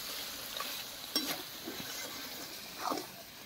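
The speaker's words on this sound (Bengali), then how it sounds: "নুনটা দিয়ে ভালো করে আমি কষে নেবো।" Desi country chicken being stir-fried in a pan with salt, giving a faint low sizzle with a few soft scraping stirs and brief clatters, no talking.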